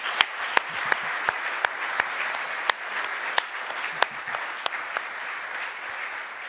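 Studio audience applauding a guest on a German TV sport show, a steady wash of clapping with sharp individual claps cutting through throughout.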